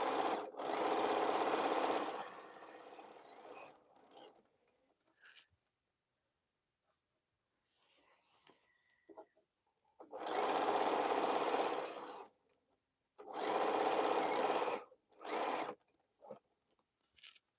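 A sewing machine stitches quilt seams in bursts of steady whirring, each a few seconds long, separated by quiet pauses with faint handling clicks.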